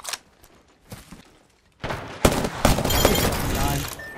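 Gunfire in the Apex Legends battle royale game, a few sparse shots at first, then a dense loud burst of rapid automatic fire with overlapping reports filling the second half.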